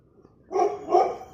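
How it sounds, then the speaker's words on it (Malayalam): A dog barks twice in quick succession, loud and close, after a moment of near silence. "പട്ടിയുണ്ട് ഭയങ്കരമായിട്ട് കുരയ്ക്കുന്നുണ്ട്"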